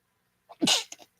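A single loud, close sneeze with a short intake of breath before it and a brief trailing burst after.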